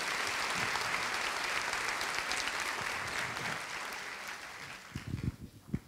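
A church congregation claps together in steady applause, gradually thinning out, with a few final sharp claps at the end.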